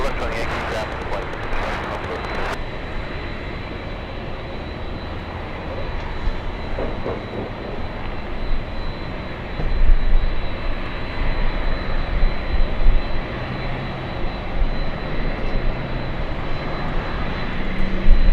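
Airliner engines at Los Angeles International Airport: a loud, continuous jet roar with a steady high whine, swelling louder past the middle and staying dense throughout, with faint radio voices early on.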